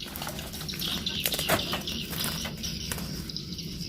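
A trapped jet-black bird with a black ring around its eye chirps faintly in short scattered calls over a soft watery background hiss.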